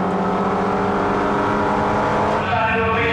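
Racing cars, including a white Toyota MR2 and Mazda MX-5s, roar loudly around a circuit near Copse Corner, engines sustained and close with a slight pitch change near the end, under a commentator's voice.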